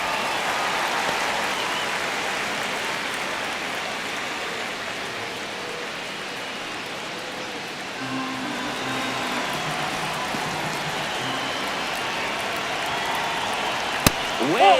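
Virtual baseball stadium crowd in MLB The Show 26 during a tense ninth inning, a steady roaring wash of cheering noise throughout with a sharp crack near the end.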